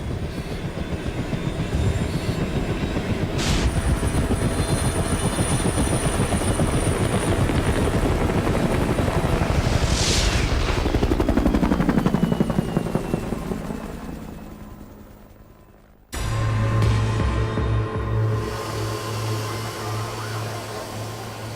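A helicopter airlifts a patient to hospital after a disaster. Its rotor and engine drone loudly and steadily, with a whining sweep partway through. After a brief dip toward silence, a lower hum returns.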